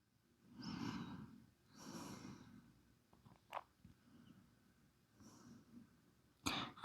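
Two slow, deliberate breaths taken while folded forward in a yoga stretch, each a soft, close airy exhale-like swell, followed by quieter shuffling and a sharper breathy sound at the end.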